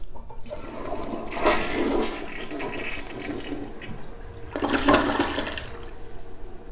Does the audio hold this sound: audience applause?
no